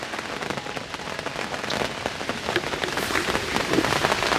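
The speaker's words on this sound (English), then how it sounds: "That is absolutely ridiculous, that rain is." Heavy rain pours down steadily during a storm on a carp fishing trip, a dense, loud hiss of drops drumming on surfaces that stays constant throughout.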